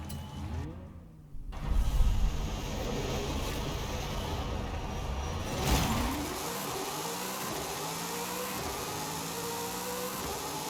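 A car launching and revving in the racing game Forza Horizon 5 during a drag run, a loud engine climbing through rising pitch sweeps and gear changes, steady and close throughout.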